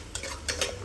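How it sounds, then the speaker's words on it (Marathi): Onion, garlic and spice masala stirred with a utensil in a pan for a pea curry, heard as a few quick, faint scraping strokes with a light sizzle. No voices. "सगळे मसाले घातल्यानंतर आपल्याला हे छान परतून घ्यायचे"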